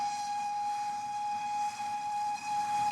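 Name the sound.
steam train wheels clattering and engine noise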